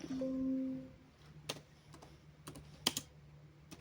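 Someone types quickly on a computer keyboard, with scattered sharp key clicks in irregular bursts against a quiet room hum.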